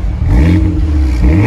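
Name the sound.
new car engine revving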